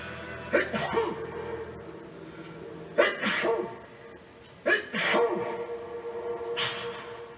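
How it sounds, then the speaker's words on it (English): Three or four sharp, explosive sneezes spaced a few seconds apart, each with a breathy intake before the burst, against a quiet background. "for this final test, he's sneezing in blue"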